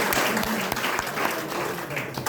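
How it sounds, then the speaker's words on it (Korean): Steady applause from a church congregation thanking a speaker after a talk, a short dense burst of clapping with no pause. "고마운 박수"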